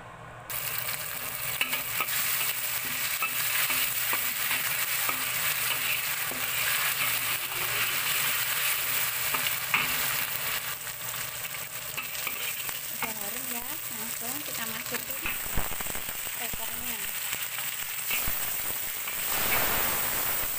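Spice paste sautéing in oil for sambal blendrang with chicken feet, a dense steady sizzle close up with occasional stirring scrapes, running on without voices.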